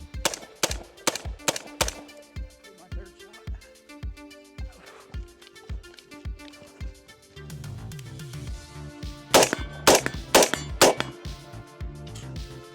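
PSA Sabre rifle shots ringing off steel targets: a rapid string of sharp cracks with metallic clangs, a pause with low rumble, then a second fast burst of loud shots.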